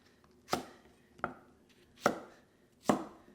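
Spring onion chopped into large chunks on a board: four sharp, well-spaced knife strikes, close and clear, with no talking.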